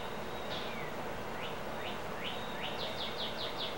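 Small birds chirp at a backyard feeder on a chilly day in Dodge Center, a series of thin, high, quick chirps repeating over a steady outdoor hiss.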